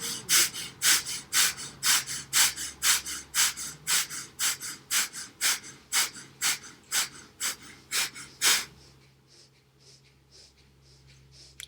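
Deep rhythmic breathing during a guided meditation, about twenty close, loud, evenly spaced breaths over a soft low background tone, with the breaths fading quieter near the end.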